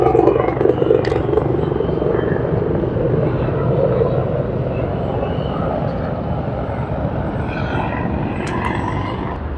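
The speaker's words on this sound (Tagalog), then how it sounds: "Helicopter." Helicopter passing over the Wan Chai waterfront at Victoria Harbour, Hong Kong, a steady loud rotor and engine drone that holds for the whole stretch, slowly fading a little toward the end.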